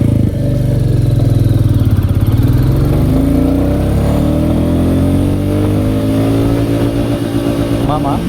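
A Royal Enfield Classic 350 motorcycle pulls hard in first gear, its loud thumping single-cylinder engine rising steadily in pitch, close and continuous, with a rider talking over the engine.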